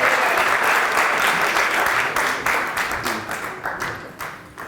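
Audience applause at an oratorical contest, a loud, dense burst of clapping that gradually thins into fewer distinct claps as it tapers off, with no speech over it.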